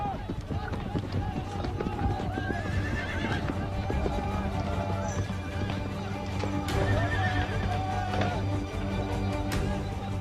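Horses at an Algerian fantasia, the traditional Arab equestrian game, neigh and whinny while galloping hooves thud beneath them. A voice speaks over the whole stretch.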